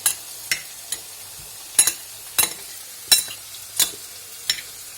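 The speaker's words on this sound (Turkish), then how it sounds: "şimdi karıştıralım." Tantuni meat frying in a pan is stirred with a utensil, giving about a dozen sharp scraping clinks in an uneven rhythm over a quiet, faint sizzle, close and clear with no talk.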